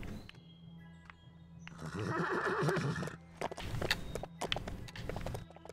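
A horse in the LEGO Worlds video game gives a loud, clear whinny, then hooves clop in a quick, uneven run of steps over a steady low game hum.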